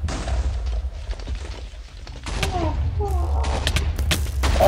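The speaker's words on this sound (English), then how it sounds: "I can't hold down all this heavy gunfire." Heavy gunfire in a Minecraft version of Team Fortress 2, with bursts of shots and sharp pops over a low rumble, louder toward the end, while a player talks throughout.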